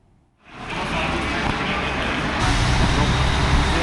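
Busy bus terminal traffic with buses and road vehicles, a loud, dense roar of engines and rumble swelling in after a short quiet start and holding steady throughout.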